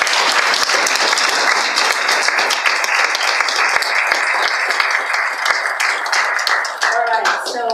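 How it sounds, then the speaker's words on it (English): A church congregation claps together during a service, producing a full, continuous wave of applause from many hands that holds steady and thins a little toward the close. "So let's clap."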